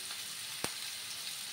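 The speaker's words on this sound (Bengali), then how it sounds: "আমি 2 মিনিটের মতো একটু ভেজে নিচ্ছি।" Carrots, capsicum, pointed gourd and potato frying in a pan give a quiet, steady hiss of sizzling oil, with one sharp pop in the middle.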